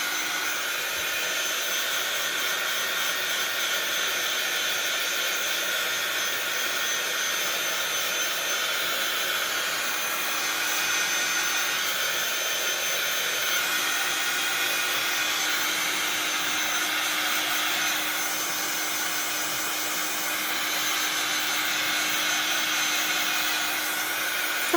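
A heat gun blows a steady, even hiss of hot air onto a glossy photograph, continuous and fairly quiet with no talking.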